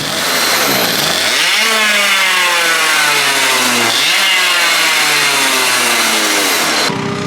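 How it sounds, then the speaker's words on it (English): Small, high-pitched go-kart engines whine and rev continuously at a racetrack, pitch climbing and dropping as they race past, loud and close. "you hear those little engines? Those are actually go-karts."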